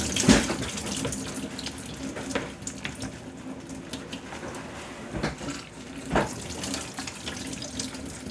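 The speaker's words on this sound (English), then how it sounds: "So now what I'm going to do is rinse the Brussels sprouts." Filtered tap water runs steadily into a kitchen sink as Brussels sprouts are rinsed beneath it. The flow hisses continuously up close, with a few louder splashes and clatters along the way.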